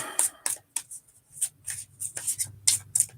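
Playing cards shuffled by hand with a handful of short, crisp riffling bursts in an irregular rhythm, close and moderately loud, alone without talk.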